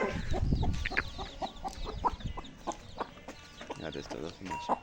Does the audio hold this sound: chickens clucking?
yes